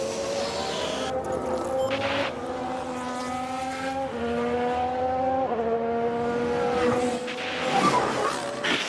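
Formula 1 race car engines in F1 Manager 2022 at the Belgian Grand Prix, a steady high droning whine shifting pitch in steps as cars pass, with a brief rough burst near the end as a car locks up.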